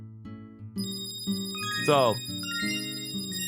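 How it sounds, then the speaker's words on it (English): A bright bell chimes once in Kirby's Epic Yarn over upbeat, steady game music. A voice speaks briefly just before it. "Now we got the bell."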